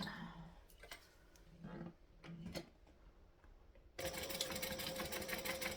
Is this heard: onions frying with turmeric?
no